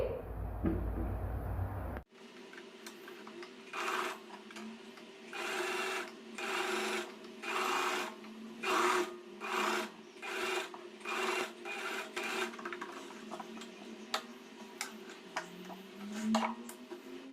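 Sewing machine stitching the front crotch seam of a front-belt, back-elastic trouser, running in repeated bursts of rapid mechanical stitching with short pauses between them, close and steady throughout.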